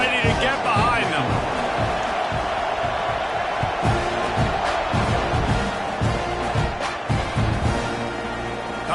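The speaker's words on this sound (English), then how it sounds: "They're set to kick it off, and this crowd now ready to get behind them." A football stadium crowd roars and cheers steadily as the kickoff gets under way, a dense wall of voices with sharp thuds and whoops, while a commentator talks over it.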